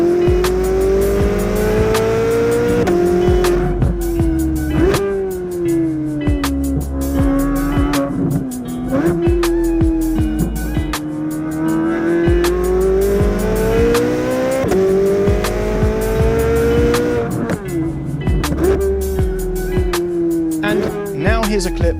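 A Corvette Z06 engine drones loudly and continuously while driving, its pitch rising and falling through gear changes and throttle shifts, close and dominant throughout.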